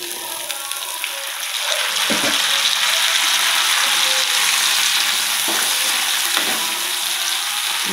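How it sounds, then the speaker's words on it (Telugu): Chickpeas sizzle in hot tempering oil with curry leaves, a bright continuous crackle that grows louder after two seconds, with occasional soft stirring knocks and no talk. "ఇప్పుడు మనం ఒక 2-3 నిమిషాలు వీటిని బాగా వేగనీయాలి."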